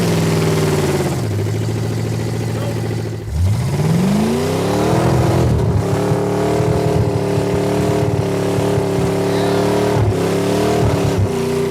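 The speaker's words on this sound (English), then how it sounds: "So of course we did burnouts before we left the pavement for the last time." A rat rod Jeep's engine revs hard on pavement during burnouts, loud and close, with rising pitch sweeps and sustained high-rev roaring broken by brief drops and re-revs.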